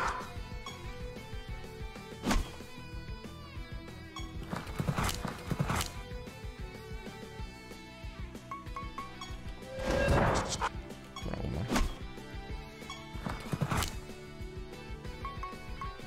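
A horse in the video game Siralim 3 neighs and clip-clops, with several sharp whinnies and crashing hits standing out over continuous game music.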